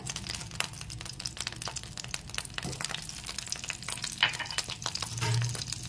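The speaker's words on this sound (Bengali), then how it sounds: "এর মধ্যে দিয়ে দিচ্ছি বাটার" Butter melting and frying in a pan after chicken pieces were cooked in the oil, a faint crackling sizzle with scattered pops and light stirring scrapes, close and quiet.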